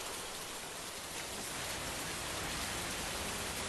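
Heavy rain pours steadily and loudly on a field in Solapur district's Akkalkot area, a dense, unbroken wash of hiss with no pauses.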